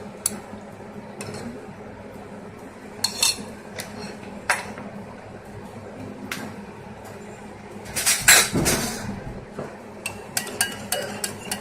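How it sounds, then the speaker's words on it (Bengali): A utensil mixes Kashmiri chili, spices and sour yogurt in a bowl for butter chicken, making scattered light clinks and taps against the dish with a brief louder scrape-and-clatter burst partway through, over a quiet kitchen background. "ভালো করে মিশিয়ে নিচ্ছি সমস্ত ইনগ্রেডিয়েন্টস।"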